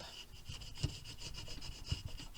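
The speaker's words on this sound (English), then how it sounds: "So like if you put the tape here, you burnish on the top, peel off." Sticky tape being burnished by rubbing on a paper folder album, a quiet steady rasping scrub with a few firmer strokes spaced through it.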